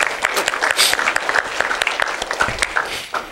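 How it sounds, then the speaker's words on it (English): Applause from an audience at a motivational talk, steady clapping with busy overlapping hand claps throughout, fairly loud and close, with some voices mixed in. "you deserve a round of applause"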